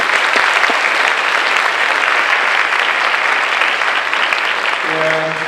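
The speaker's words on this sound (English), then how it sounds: "we can give them a round of applause." Audience applause at a 12th grade family information meeting: dense, steady clapping that fills the room at full volume and continues throughout, thinning slightly near the end.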